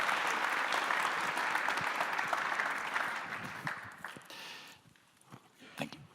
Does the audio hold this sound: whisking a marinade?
no